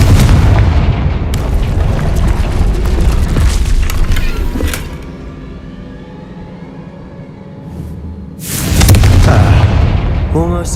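Spell blast from the Confringo fire curse in Hogwarts Legacy: heavy booming explosive bursts with a rumbling low end dominate the opening seconds, ease into quieter ambience, then a second loud blast erupts near the end.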